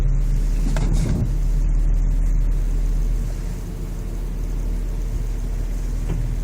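A car reverses slowly with a bird perched on its hood, the engine a steady, close low rumble throughout, with a brief louder surge early on and no voices.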